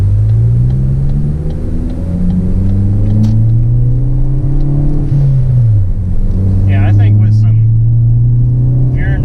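A 2013 Ford Focus ST engine revs hard through quick gear changes, loud rising and falling drone close by, with a brief dip between shifts and a voice over it.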